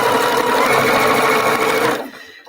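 A sewing machine sewing down fabric scraps, running loud and continuous at close range for about two seconds before stopping abruptly.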